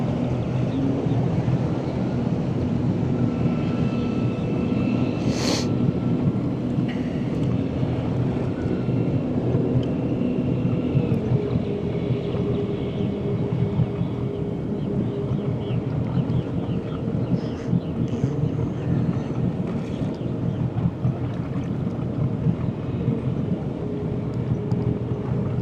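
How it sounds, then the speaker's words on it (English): A fishing boat's engine drones steadily throughout, an odd mix of gas and electric tones, under broad wind and water noise, fairly close and continuous with no talk. "That engine sounds a little weird. Sounds like a combination of gas and electric."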